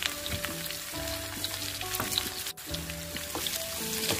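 Potato and bitter gourd fry over low heat in a covered pan, giving a gentle, even sizzle with light crackle and one short dip partway through. Steady tonal hum sits beneath.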